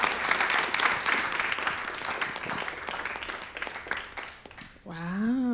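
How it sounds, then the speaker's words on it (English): Audience applause for filmmakers after a pitch session at a documentary festival, a full crowd clapping steadily for several seconds before a voice begins speaking over the fading claps. "Can we have another round of applause, please, for our like brave filmmakers?"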